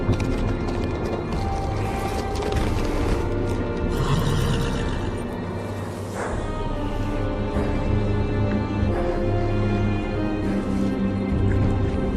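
A horse in a Game of Thrones video game whinnies and snorts amid hoof clip-clops at a gate on the Wall, with game ambience and a musical backdrop throughout.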